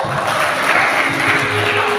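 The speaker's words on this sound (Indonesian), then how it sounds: "Coba semuanya tepuk tangan yang meriah untuk Tuhan Yesus." Young children at a church kids' gathering clap together in a steady, dense wash of applause lasting the whole moment, with no talking over it.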